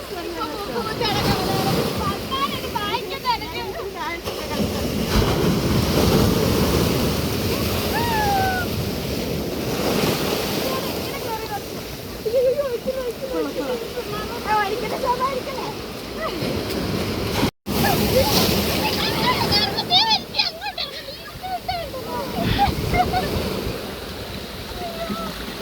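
Ocean waves surge and crash on a beach in a steady, loud, broadband wash, with gusty wind buffeting the microphone and voices talking intermittently over it.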